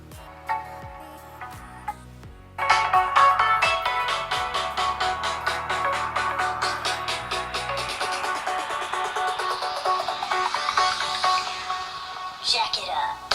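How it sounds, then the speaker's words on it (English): A song plays at full volume through the small built-in speaker of a Xiaomi Redmi Note 9 Pro phone. A quiet, sparse intro gives way to a dense, bright, steady beat that runs continuously. "Let's go ahead and play a quick song just so you guys can hear how the speaker performs."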